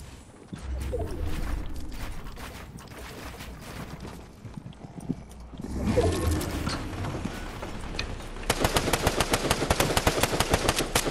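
Gunfire in the video game Fortnite, with mechanical clicks and scattered shots building to a fast, loud rattle of rapid automatic fire near the end.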